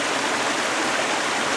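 A rain-fed waterfall in a Sierra forest pours steadily, a continuous broadband rush of falling water heard close and fairly loud with no voices.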